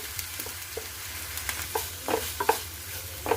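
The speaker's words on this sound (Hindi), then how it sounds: "अब हम इसे तेल में डाल देते हैं। अब हम इसे चलाते हुए इसे हम भून लेंगे।" Ground onion paste fries in oil in a pan for an arbi (taro) curry, giving a low even sizzle under scraping spatula strokes that grow denser and louder toward the end.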